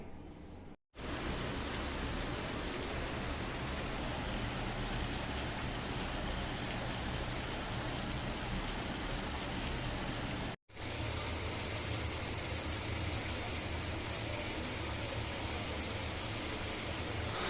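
Steady rain falls in a dense, even hiss throughout, close and unbroken apart from two brief cuts.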